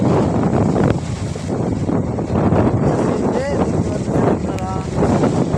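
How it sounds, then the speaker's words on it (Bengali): Strong wind during a cyclone with heavy rain, roaring and gusting steadily into the microphone, loud and continuous, with faint tonal whistles in places. "প্রচুর যেমন বাতাস তেমন বৃষ্টি"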